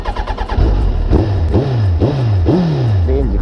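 A Suzuki Hayabusa motorcycle engine with a faulty charging system cranks and catches, then revs up and down in several sharp, repeated blips close by, idling roughly between each rise.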